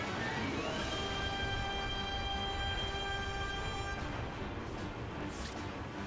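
Megatrain, a boss train in the video game Lost Odyssey, rumbles with a dense, steady mechanical roar and sustained tonal whine that runs loud throughout, then shifts slightly near the end.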